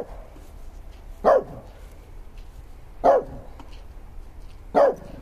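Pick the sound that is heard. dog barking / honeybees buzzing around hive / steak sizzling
dog barking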